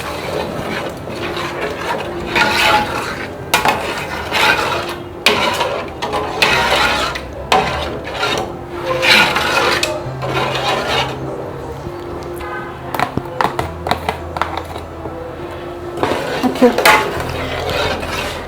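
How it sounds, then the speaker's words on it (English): A spoon stirs stock into a sauce mixture in a pot, scraping and knocking steadily and repeatedly against the pot for the whole stretch at a close, moderate level. "add your stock into the mixture. And give it a good stir."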